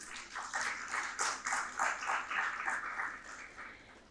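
A large crowd claps steadily in an auditorium, welcoming a guest onto the stage at a formal session; the applause stays fairly even and sustained throughout, with no one speaking over it.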